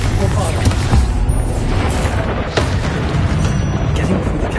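A Bombarda explosion spell cast in the Hogwarts Legacy video game, with loud booming blasts and rumbling combat effects layered under a shouted incantation voice.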